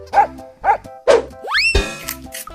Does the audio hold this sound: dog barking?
yes